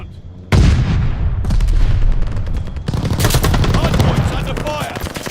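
Strafing fire from a hostile air strike in a shooter game's hardpoint match: a sudden loud roar of rapid, dense automatic gunfire and booming impacts sustained for several seconds, close and overwhelming.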